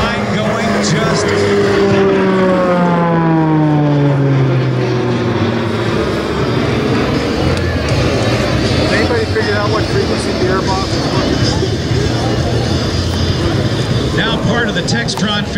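A Beechcraft T-6C Texan II turboprop trainer drones overhead during an airshow slow roll, its engine pitch sweeping downward as it passes, then settling into a sustained roar with a voice speaking over it.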